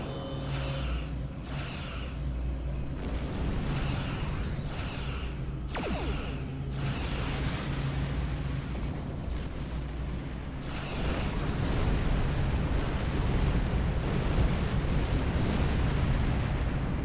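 Heavy disruptor cannons fire in the Star Trek Online space combat game, a rapid series of loud booming blasts with whooshing bursts over a constant rumbling engine drone, then a denser roaring barrage of explosions.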